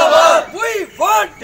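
Protesters from a health workers' union strike shout slogans in unison, two short rising-and-falling chants close together, loud and near.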